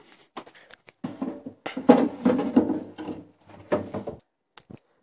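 A wooden roof set onto a wooden Dadant beehive: a series of close hollow knocks, scrapes and thumps of wood on wood, irregular and clustered, with short silent gaps between.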